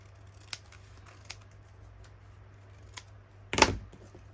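Scissors trim paper for a handmade craft booklet, with a few faint snips followed by one longer, louder crisp cut close by in a quiet room.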